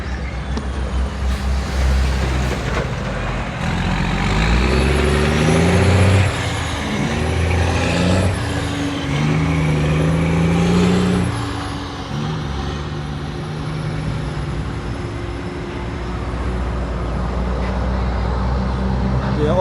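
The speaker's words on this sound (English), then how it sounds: "The garden is heavily used by traffic, especially heavy equipments in particular." Heavy trucks and equipment rumble past the Dominica Botanic Gardens, with loud low engine drone, gear changes and a hiss like air brakes building and then fading into lighter road noise over about twenty seconds.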